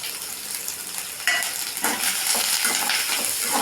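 Small and large onions with curry leaves sauté in a pan, hissing steadily, with a louder burst of sizzle partway through and soft scraping and stirring sounds. No voices are heard.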